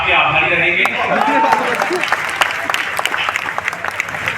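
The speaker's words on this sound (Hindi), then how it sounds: "आपने मेरे स्वागत सम्मान में जो घनघोर तालियां बजाई हैं" Audience applause at a Hindi poetry recital (kavi sammelan) in Burhar: dense, loud clapping from a large crowd, with a voice talking over it at the start before the claps thin toward the end.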